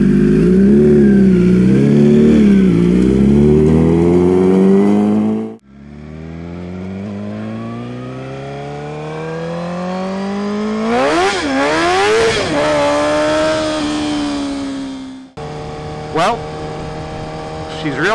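A Suzuki GSX-R1000 motorcycle engine revs hard while being ridden, rising loud and close in three pulls, each cut by a gear change, with a brief rev burst at the end.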